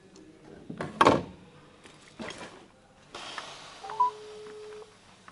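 A telephone gives off short electronic tones or beeps among rustling and handling noises, fairly close and moderately loud, with no one speaking.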